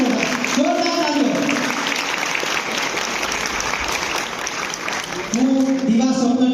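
A Gujarati community audience in Brisbane, Australia gives loud, sustained applause to the team behind the film Divaswapna after a screening, with a voice talking over the start and end.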